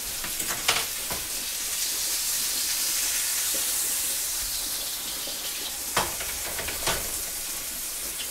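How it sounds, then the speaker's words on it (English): A sirloin steak fries loudly in a pan, giving a dense, continuous sizzle with a few sharp spitting bursts near the start and again later, all heard close up. "We're going to get a nice brown crust on the steak."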